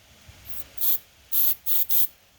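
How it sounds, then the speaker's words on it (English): Drywall finishing aerosol can spraying in four short hissing bursts, the last three quick and close together, nearby and fairly loud. "I'm just going to spray some over here."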